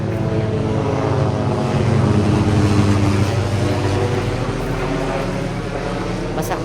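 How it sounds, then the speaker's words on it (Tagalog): Aircraft engine drone, likely a helicopter, passing overhead near a military airport and air force base; a steady, loud low rumble with dense harmonic bands holds throughout, swelling slightly in the middle. "Helicopter."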